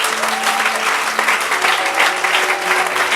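A church congregation claps and applauds together in steady, dense applause that runs the whole time at even loudness, with no voices standing out.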